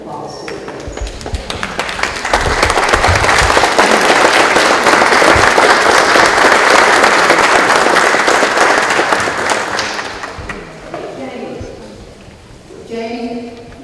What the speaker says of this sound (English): let's give them a round of applause to them